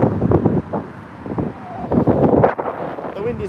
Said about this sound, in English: The wind is picking up madly here.